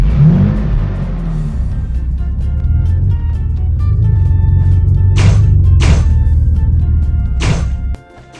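Car engine in an Android video game: a loud, steady low engine drone with revving, punctuated by three sharp thumping impacts near the end before the sound cuts off abruptly.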